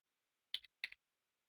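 Two quick clusters of computer keyboard key clicks, close and fairly quiet, separated by a short pause, with no talking.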